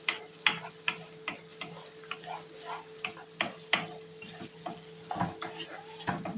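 Onions frying in a pan with a small pinch of sugar and salt, cooked for Egyptian-style fava beans: a steady close sizzle broken by repeated clicking stirs and scrapes of a utensil, with no talking.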